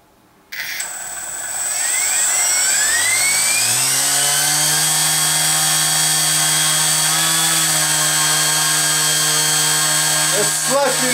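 An engine held at half throttle gives a loud, steady, sustained drone with a rising pitch as it spools up, then settles into a constant tone, with a brief clatter near the end.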